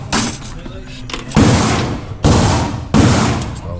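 A full magazine is fired in a string of sharp, loud gunshots, a few ragged bursts early and then three heavy evenly spaced blasts, each with a booming decay.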